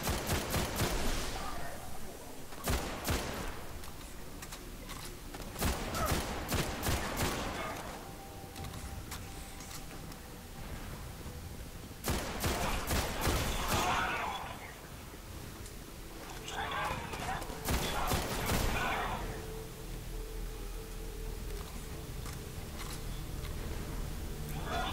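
Gunfire in the PS4 shooter Destiny, including a sniper rifle, with bursts of shots in repeated clusters over a steady game background and some talk.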